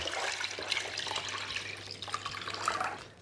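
Steady stream of water pouring and splashing into a pot, 2.5 litres for making yogurt, continuous for a few seconds with a faint low hum underneath.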